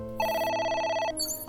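Electronic phone ringtone in the Ai: The Somnium Files video game, a single bright trilling burst of rapidly pulsing tones lasting about a second, clear and close, with no talking.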